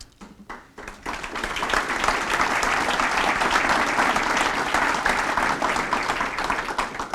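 A few isolated claps give way to full applause from an audience at a high school hall of fame induction ceremony, dense and steady in a large room before tapering slightly.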